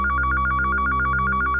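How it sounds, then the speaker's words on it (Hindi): An office telephone rings in a rapid, loud, electronic warbling burst that fills the short span, close and unaccompanied by voices. "थैंक गॉड, सही समय पे फोन आ गया।"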